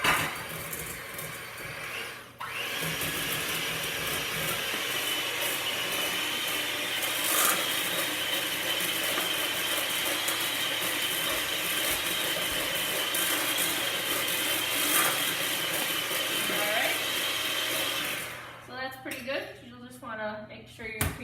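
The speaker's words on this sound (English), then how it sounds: "I'm going to take my hand mixer and just beat this up." Handheld electric mixer beating cream cheese and white sugar in a bowl for brownie batter, a steady buzzing whir running nearly continuously and close up, stopping briefly near the start and ending with a few trailing clanks.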